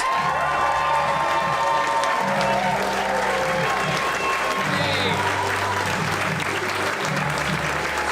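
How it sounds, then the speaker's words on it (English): A comedy club audience applauds and cheers as a comedian is brought on stage, a dense continuous wash of clapping with whoops, loud and steady throughout while a voice speaks over it. "Put your hands together for Zoltan Kaszas."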